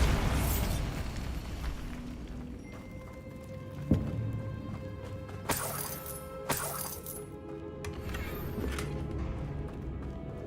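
A Bombarda spell goes off in Hogwarts Legacy, giving a sharp blast near the four-second mark and two smaller popping bursts soon after, all over a steady bed of game ambience and music.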